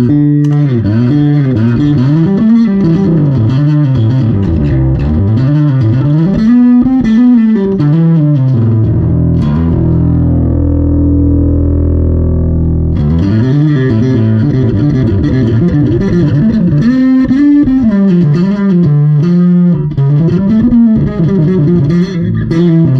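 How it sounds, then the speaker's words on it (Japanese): A bass guitar plays through a distortion pedal into an Aguilar DB751 amp and DB410 cabinet at a Blue Note Tokyo soundcheck. Gritty, loud notes rise and fall in a busy line, break into a long sustained low note, then the line resumes. "時に歪みを踏みます。"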